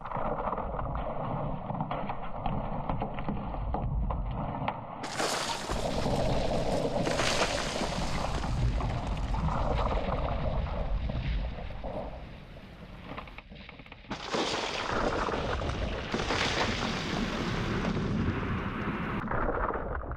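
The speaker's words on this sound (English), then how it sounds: "It's the sound of glaciers with the history of tens of thousands of years collapsing." A huge roar of glacier ice collapsing in Svalbard, a deep rumbling like thunder that swells in loud, sustained waves, easing briefly before another heavy surge of crashing, rushing noise.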